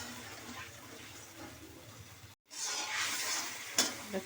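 Fish curry gravy for a Bengali-style fish jhal boils in a pan with a soft bubbling sizzle, cutting out briefly, then returning brighter and louder with a stir and a clink.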